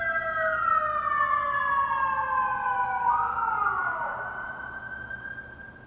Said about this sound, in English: And we even have sirens going on right now.